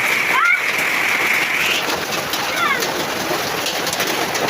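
Heavy rain and hail pour in a dense, steady hiss, with brief bird calls near the start.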